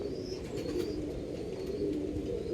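A pair of pigeons coo softly and continuously close by, a low, rolling murmur with no talk over it.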